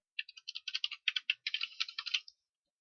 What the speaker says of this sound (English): So I shall type a very quick one in here.